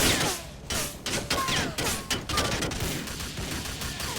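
Rapid gunfire in Grand Theft Auto IV, a loud game shootout of repeated shots and bursts running throughout, with sharp cracks and dense echoing crackle.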